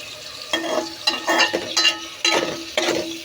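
Masala sautéing in oil in a pan for a fish do-pyaza, close, repeated stirring scrapes and bursts of sizzling in an uneven rhythm, no talking.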